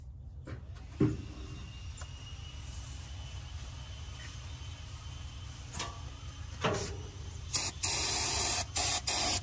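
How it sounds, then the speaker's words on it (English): Carb cleaner sprayed into the carburetor of a 1975 Dodge D200 Crew Cab truck, heard as a few short hissing bursts followed by a longer spray near the end, close and fairly loud against a quiet background. "Little carb cleaner and just see if it'll do anything."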